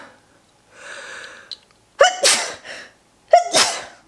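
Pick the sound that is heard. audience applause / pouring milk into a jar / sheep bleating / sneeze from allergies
sneeze from allergies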